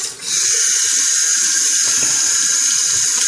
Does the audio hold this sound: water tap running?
yes